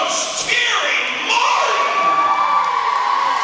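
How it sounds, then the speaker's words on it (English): A large indoor crowd in Cave Arena at a Piedmont basketball game cheers loudly with whoops and shouts, a sustained roar that swells and holds throughout. "A round of applause all around in Cave Arena."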